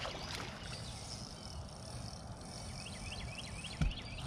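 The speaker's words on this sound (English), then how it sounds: "I gotta follow him with my trolling motor, or I won't land it." An electric trolling motor pushes a fishing boat through a quiet backwater on Lake Lanier, giving a soft, steady low hum with faint water noise and a few insect chirps.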